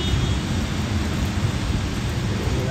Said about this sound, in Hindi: बारिश हो रही है यार,